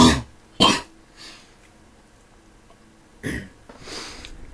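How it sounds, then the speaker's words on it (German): A person coughs several times in short, separate bursts, close to the microphone, with quiet pauses between the coughs. "So, und jetzt muss ich gerade nochmal husten."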